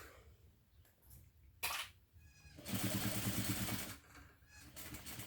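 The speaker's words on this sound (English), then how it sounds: "My sewing machine, for anybody who wonders, is a Juki" A Juki DDL 8700 industrial sewing machine runs in a couple of short bursts, the longer run a steady fast mechanical whir in a quiet room.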